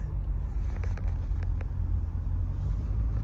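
A Corvette rumbles steadily while cruising slowly around the block, its deep low engine drone continuous and fairly quiet inside the cabin, with faint clicks over it.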